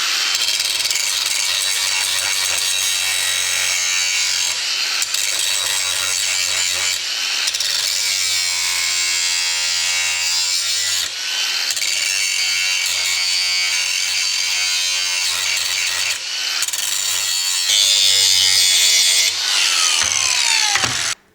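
Abrasive cleanup of the worn end of an Austin J40 front axle in a workshop, a loud continuous grinding-sanding whine running steadily with brief pauses and pitch shifts, close up with no talk.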